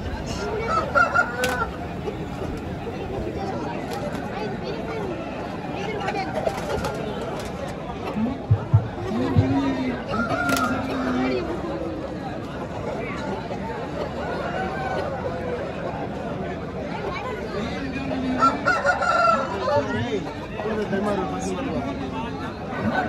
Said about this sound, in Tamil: எல்லா சைட்லேயும் ஏகப்பட்ட சேவல்.